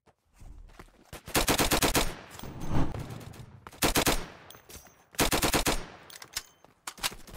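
Rapid automatic gunfire from the Roblox game Flag Wars rattles in long sustained bursts with brief gaps between them, loud and close, no voices.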